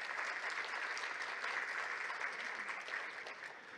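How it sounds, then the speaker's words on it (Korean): Audience at a landscape architecture day ceremony applauding to welcome a city council member, a brisk, uniform spread of many clapping hands, fairly soft and distant, easing gradually toward the close. "박수로 맞아주십시오."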